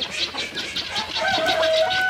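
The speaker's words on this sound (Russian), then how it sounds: "Петухи разбушевались." Roosters crow loudly close by, one drawn-out call rising over a background of clucking and other farmyard birds; no one speaks.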